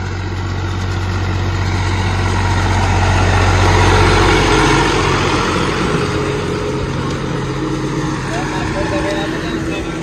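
An HMT 351 tractor engine runs at a steady, low, rumbling idle throughout, rising slightly in loudness midway, with muffled voices faintly underneath.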